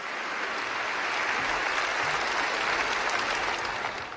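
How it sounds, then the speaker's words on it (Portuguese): A church congregation claps steadily and loudly for several seconds, a dense wash of applause with no voices standing out. "pode glorificar o Senhor com palmas"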